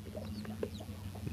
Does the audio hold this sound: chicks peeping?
yes